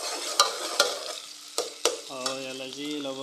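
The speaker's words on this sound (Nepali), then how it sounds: "प्याज हाल्दा पकाउनु पऱ्यो नि त, मजाले पकाएर यसलाई चाहिँ रातो हुने जेलसम्म" Onions frying in mustard oil give a soft sizzle while a spatula strikes the pan several times in sharp, separated knocks; a tonal melody joins in toward the end.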